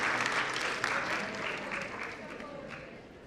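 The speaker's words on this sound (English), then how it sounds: "A big clap for all of these supporters, without whom we will not be standing here today." An audience at an international sports and exercise medicine conference applauds its supporters, a dense, sustained round of clapping that slowly fades over a few seconds, with no talk over it.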